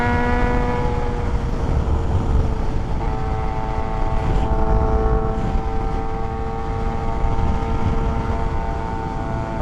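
A Suzuki GSX-R750 motorcycle engine drones steadily and loudly, its whine holding and shifting pitch slightly partway through, with constant wind and road rumble beneath.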